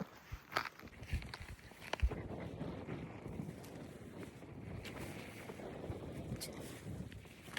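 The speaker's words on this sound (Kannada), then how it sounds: "ಎಷ್ಟು ಗಾಳಿ ಇದೆ ಗೊತ್ತಾ?" Quiet, gusty wind rumbles low and continuously, with a few faint knocks and scuffs scattered through it.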